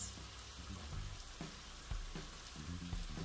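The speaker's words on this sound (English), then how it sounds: "We're gonna add sauce in, and I'm using, oops, 2 cups of store-bought sauce in each pan." Store-bought pasta sauce hits a hot pan with a steady soft sizzle and bubbling, a few dull knocks of a spoon or pan scattered through, close and fairly quiet with no talk.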